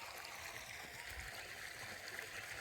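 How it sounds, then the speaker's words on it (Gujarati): Irrigation water runs into a wheat field on a farm, a continuous, even rushing and gurgling flow that stays faint and steady throughout, with no distinct splashes standing out. "જોવો અહીંયા પાણી ચાલુ છે ઘઉંમાં."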